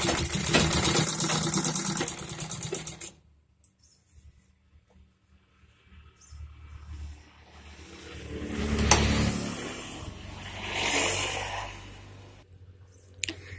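Sewing machine stitching a zipper into old track suit fabric, running in two loud bursts of rapid stitching separated by a quieter pause with faint handling sounds.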